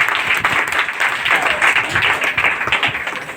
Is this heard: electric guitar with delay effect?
no